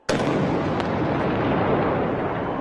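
An artillery gun fires a single round in a ceremonial salute at a presidential swearing-in, one sudden loud blast followed by a long rolling boom that fills the open air.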